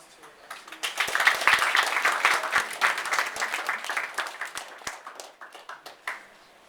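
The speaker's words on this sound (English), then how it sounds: "please give a big round of applause to our young students" An audience at a general meeting claps in sustained applause for young students that swells quickly, then gradually thins out into scattered claps.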